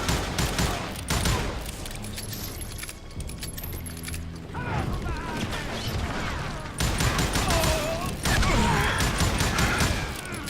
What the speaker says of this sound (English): Não acredito que eu errei todos esses tiros.